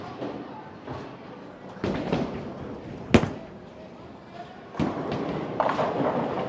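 Evoke Hysteria bowling ball rolling down a lane and striking pins: a low rolling rumble, then a sharp crack of impact with clattering, another thump and rumble following, fairly close.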